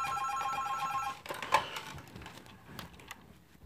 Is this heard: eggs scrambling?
no